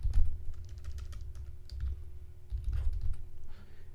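Close, steady typing on a computer keyboard, a quick run of light clicking keystrokes with brief pauses, alone without talk.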